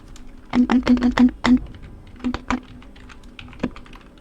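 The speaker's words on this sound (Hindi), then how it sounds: "कीबोर्ड से।" Quick bursts of clacking keys on a computer keyboard while working in Excel, a rapid cluster of close, crisp taps followed by a few scattered keystrokes with pauses between.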